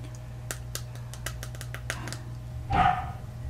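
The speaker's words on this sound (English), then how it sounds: "so my dog is also trying... barking." A household dog barks in a quick series of sharp, moderately loud yaps during a tabletop word-guessing game, followed by a brief louder burst over a steady low hum.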